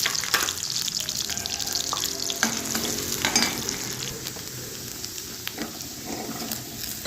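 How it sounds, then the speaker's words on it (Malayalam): Finely chopped coconut fries in a couple of spoons of ghee in a pan, a steady close sizzle broken by the scrape and clatter of stirring. "ഒരു രണ്ട് സ്പൂൺ നെയ്യിട്ടു എന്നിട്ട് കുറച്ച് തേങ്ങ ചെറുതായിട്ട് അരിഞ്ഞത് അതൊന്ന് മൂപ്പിക്കാം"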